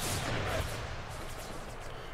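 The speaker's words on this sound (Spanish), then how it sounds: "Ahí disparan nuestras artillerías." Artillery fire in an American Civil War strategy game during the defense of Washington, a rumbling burst of distant cannon shots at moderate level that fades into a softer, sustained battlefield din.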